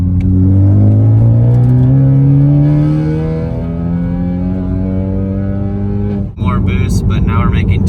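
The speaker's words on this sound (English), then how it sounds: "I'm gonna go back and do those pulls again." A Ford Focus ST running a tuned E30 map revs hard on a dyno, a loud, close engine note sweeping steadily upward in pitch for several seconds before a sudden shift and renewed high revving.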